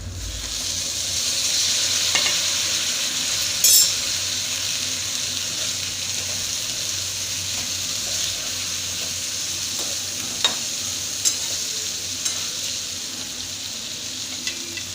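Chopped ghevda beans sautéing with red chilli powder and black spice masala in a hot pan, a steady loud sizzle with occasional scrapes and clinks of a spoon, no talk.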